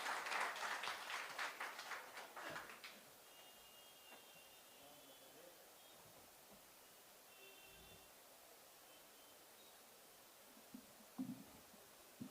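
A mushaira audience at Sham e Urdu 2023 gives a brief round of applause that dies away after a few seconds, leaving a quiet hall with faint rustles.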